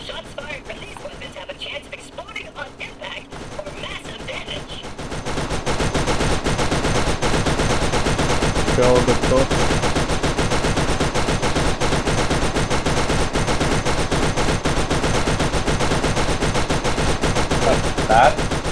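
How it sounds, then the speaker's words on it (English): A machine gun in the video game Borderlands rattles into sustained, loud automatic fire after a quieter opening, the dense stream of shots running without pause while voices talk over it. "Get onto that machine gun or something."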